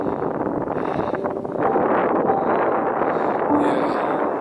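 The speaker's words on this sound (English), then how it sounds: "I'm gonna build a little wind shelter here because it's a little bit windy." Steady wind buffets the microphone at a flat mountain bivy spot below a glacier, a loud continuous rushing roar with gusts swelling and easing.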